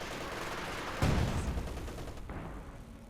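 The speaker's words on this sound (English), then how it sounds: "Penal troops there advancing, taking heavy fire there." Gunfire in the real-time strategy game Company of Heroes 2 as penal troops advance under heavy fire: a sharp loud burst at one second rising out of a steady battle din, with another crack later, no voices.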